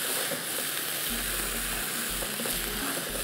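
Ginger chicken frying in a pan, a steady close sizzle that fills the whole clip with dense crackle and no voices.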